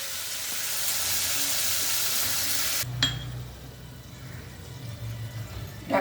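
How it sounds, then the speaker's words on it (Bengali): Potatoes and tomato sizzle loudly in a pan, then a lid clatters on and the frying continues as a muffled, quieter bubbling underneath it. "এবার আলুটা চাপা দিয়ে আমি একটু কষিয়ে নিচ্ছি নরম হওয়া অবধি।"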